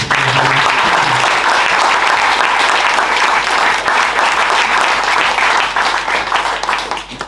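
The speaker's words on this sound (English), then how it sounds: "Round of applause for everyone." Loud, dense applause from a conference audience after a panel discussion on consent, sustained wall of clapping that tapers slightly toward the end, filling the room with no talk.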